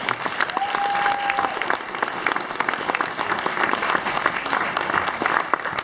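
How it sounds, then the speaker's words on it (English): An audience at a charity group's first annual event in Wales gives a round of applause, a dense burst of many hands clapping that holds steady throughout. "I hope you will all join me in giving them a very well-deserved round of applause"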